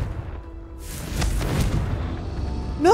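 A Confringo fire spell detonates in the Hogwarts Legacy video game: a rumbling, booming blast with whooshing bursts swelling mid-way, then a sharp rising tonal cry right at the end.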